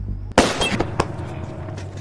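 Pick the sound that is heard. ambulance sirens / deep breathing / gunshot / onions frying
gunshot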